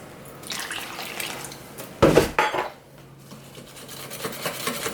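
A whisk or spoon stirs water into a thin vegan crepe batter in a bowl, with soft wet scraping and a louder burst of sloshing mid-way, no talk over it.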